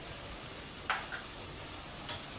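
Ginger, garlic and green chili paste frying in a pan for pav bhaji gives a steady, close sizzling hiss, broken by a couple of light spoon clicks, with no talk.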